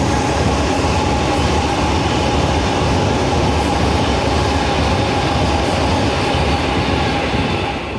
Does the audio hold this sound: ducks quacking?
no